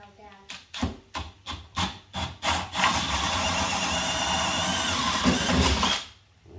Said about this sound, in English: time to drill this hole now